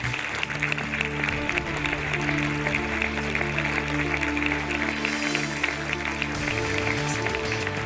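Steady audience applause at the closing ceremony of the Saint-Jean-de-Luz International Film Festival, a dense clapping wash for a musician that holds at an even level throughout, with music underneath.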